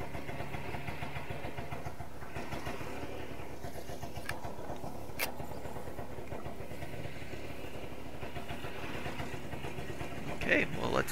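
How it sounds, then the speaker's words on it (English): A 1969 Ski-Doo Olympique 320cc snowmobile idles steadily on a snowy trail, a low continuous engine hum running throughout at moderate level, with speech over it and a brief rustle near the end. "the snowmobile is still idling well"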